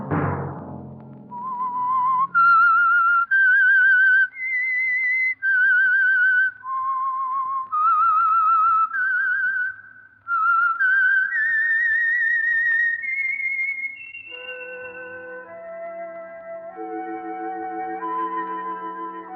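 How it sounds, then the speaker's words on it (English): A single clear whistler performs the theme signal of The Whistler radio mystery program, a slow, wavering melody of long sustained notes with brief gaps, followed by a softer orchestral passage. "Let that whistle be your signal for the Signal Oil program, The Whistler"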